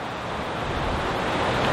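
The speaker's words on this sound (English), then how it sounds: "it's really windy here" Strong wind gusting at an outdoor golf practice area, a broad continuous rush buffeting the microphone and slowly building in loudness, with no voices.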